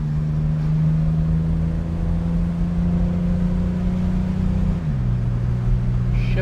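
Steady engine drone from inside a 1965 Chevrolet Corvair Monza coupe on a winding road, holding a constant pitch before a downshift drops the tone near the end, loud and continuous with no talk.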